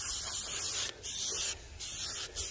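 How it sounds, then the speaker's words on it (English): Amsoil Mudslinger sprayed onto faded plastic on an old Yamaha snowmobile: close, loud aerosol hissing in three long bursts separated by short pauses. "Let's go ahead and spray that down."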